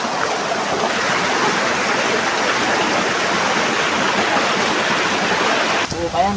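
Waterfall at Anyap Falls Nature Park in Tanay, a steady loud rushing roar of falling water that continues throughout, with a brief disturbance near the end.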